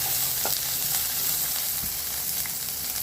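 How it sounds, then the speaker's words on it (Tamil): Chopped onion sizzles and fries in hot oil after mustard seeds have popped, a steady broadband sizzle with a few soft stirring clicks, close and continuous with no talk, while cooking village-style cabbage koottu. "ஒரு வெங்காயம் சின்னதாக வெங்காயம் வதக்கணும்"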